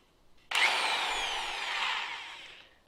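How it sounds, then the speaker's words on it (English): An impact driver driving bolts while building a deer spreader, one sustained close whirring run starting abruptly after a quiet moment and gradually slowing over about two seconds. "Now we have our impact driver."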